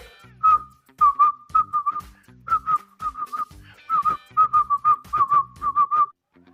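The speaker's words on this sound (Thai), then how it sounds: "คือผมก็ผิวได้จะผิวให้ดูเลย" A man whistles a lively tune up close, with short, bright notes in quick phrases broken by brief pauses, loud and clear with no talking over it.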